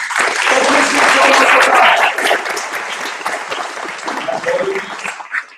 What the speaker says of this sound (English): say a round of applause